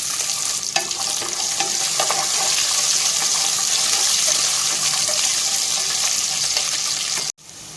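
About 50 grams of peeled garlic frying in oil in a pan for capsicum rice, giving a loud, steady close-up sizzle that runs unbroken until a brief dropout near the end.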